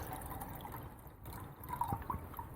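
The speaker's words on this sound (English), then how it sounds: "I've got half a litre here, so I'm going to just pour that in." Half a litre of water trickles into a Jetboil MiniMo stove pot outdoors in a garden, a quiet, uneven pour with faint drips and small splashes toward the end.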